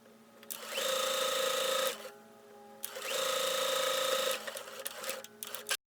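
A sewing machine hems dress sleeves in two loud, steady bursts of fast whirring stitching close by, separated by a short pause, ending with a brief clatter before it stops.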